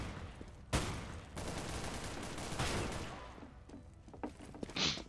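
Gunfire in CS:GO rattles in dense overlapping bursts, a sharp shot followed by sustained fusillade-like noise and scattered fainter shots, fairly quiet overall.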